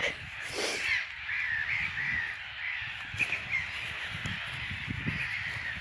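A noisy flock of gulls calls continuously, harsh overlapping squawks and caws ringing out fairly close against a steady background hiss.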